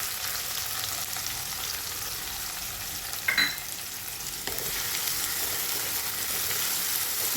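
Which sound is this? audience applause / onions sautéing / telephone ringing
onions sautéing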